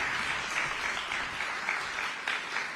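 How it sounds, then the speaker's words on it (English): Audience applause in a room during a New Jersey bill-signing event, a dense, steady wash of many clapping hands, moderately loud and sustained throughout with no talk. "Let's give them a round of applause."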